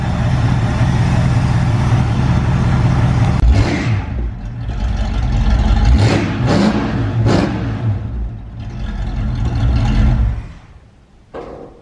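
A 1973 Mustang GT engine revving in a shop, loud and close, rumbling at idle with several sharp throttle blips before settling and dropping away at the end.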